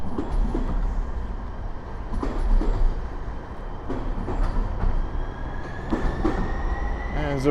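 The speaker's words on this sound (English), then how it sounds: "just kind of watching the trains go by" A light-rail or freight train rumbles past in downtown Minneapolis, with rhythmic wheel clatter over rail joints and a rising metallic squeal, heard nearby among city noise.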